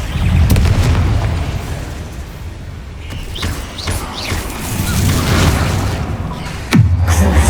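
Bombarda spell explosions in the video game Hogwarts Legacy, heavy booming blasts with rumbling debris, several impacts spread across the stretch, the last one sharp and loud.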